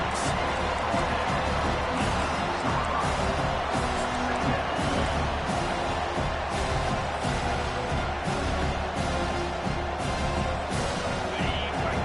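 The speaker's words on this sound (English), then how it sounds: "The roar of the crowd trying to fuel this defense to keep them pinned in their own end." A large American football stadium crowd roars in a steady, dense wash of cheering, with a voice speaking over the continuous noise.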